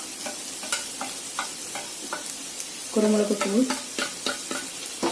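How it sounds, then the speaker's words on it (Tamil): Prawn gravy masala being sautéed and stirred in a pan, a soft sizzle under a regular series of spoon scrapes and taps against the pan; a voice speaks briefly midway. "கொஞ்சம் நல்லா வதக்கிக்கிங்க."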